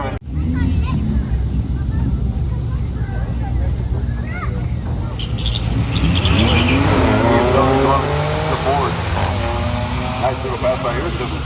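Car making a drag strip pass, engine rumble building into a loud, rising roar as it launches and accelerates hard, with people talking over it.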